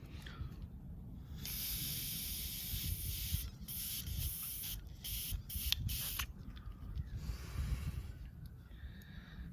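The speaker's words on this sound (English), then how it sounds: "we'll squirt some like brake cleaner through there and all the little ports here" Brake cleaner hisses from an aerosol can in several sharp bursts into the ports of a Honda GCV160 small-engine carburetor, close and loud over a low background rumble.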